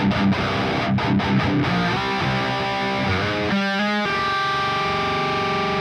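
An electric guitar plays through a Boss DS-1 distortion and a Grind pedal, giving thick, saturated chords and sustained notes with a brief choppy break, loud and continuous with no talking.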